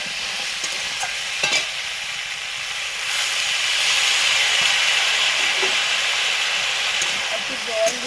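Water poured into a hot frying pan with turmeric and chili, erupting into a loud steady hiss and sizzle of steam that swells and holds, with a few small clinks.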